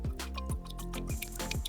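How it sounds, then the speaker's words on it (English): Water from a reverse osmosis filter drips steadily during nano tank maintenance, soft close droplets landing every few tenths of a second in an even rhythm. "The good water is already started dripping."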